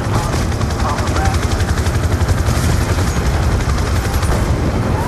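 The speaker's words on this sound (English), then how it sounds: "Helicopter above the parking structure!" A helicopter's rapid rotor thump pulses loudly over scattered gunfire in a Black Ops 2 street battle set in the U.S. in 2025, a dense, constant barrage with voices shouting underneath.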